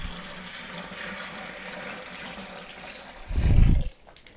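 Water briefly gushes from the open spigot of a homebrew kettle onto a hardwood floor, a short loud splashing burst after a stretch of quiet room noise.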